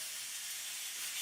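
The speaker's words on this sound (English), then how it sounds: "we're gonna sear our prime rib" Prime rib searing in oil in a hot pan, a steady broad hiss of sizzling fat, fairly faint and unbroken throughout with no distinct pops.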